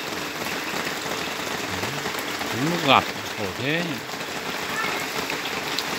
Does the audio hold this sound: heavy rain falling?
yes